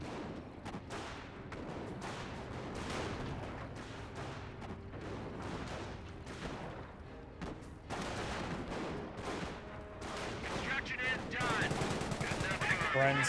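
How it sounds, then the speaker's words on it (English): Battle gunfire in Company of Heroes, a World War II strategy game, with dense machine-gun bursts and scattered heavier shots rolling on continuously and growing louder toward the end. "Friends firing away."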